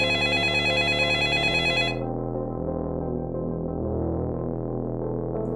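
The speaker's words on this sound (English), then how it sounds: "Then the phone call started." A telephone's electronic ring sounds for about two seconds, then cuts off, leaving a low steady hum.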